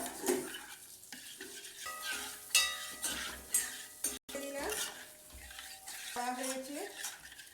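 Rice-flour pitha dough is fried and stirred in a pan, with a soft sizzle under repeated scraping and clinking of a utensil against the metal, intermittent and close.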